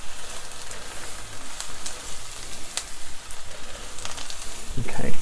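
Caramelised onions fry in a pan for a cheese and onion mini quiche, giving a steady close crackling sizzle that stays even throughout.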